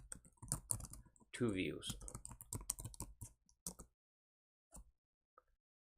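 Someone types a keyword on a computer keyboard in fast, close, clicky bursts that fade into a few scattered key taps. A voice speaks at the same time.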